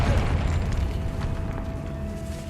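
A Confringo fire spell blasts in the Hogwarts Legacy video game, a loud, broad rumbling explosion that rolls on and fades slowly, with a thin steady tone ringing through it.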